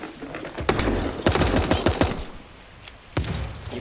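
SMG fire in the video game Super Animal Royale comes in quick rapid bursts of close, punchy shots, with a short pause near the middle before another burst starts.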